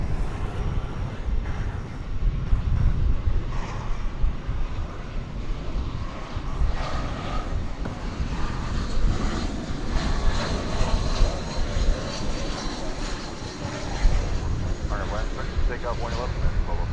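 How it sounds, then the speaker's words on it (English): A United airliner, Flight 772 from Denver, comes in to land at DFW Airport at night with a broad, sustained jet roar. Someone talks over it throughout, and wind buffets the microphone. "here comes a United flight. It's Flight 772 landing from Denver"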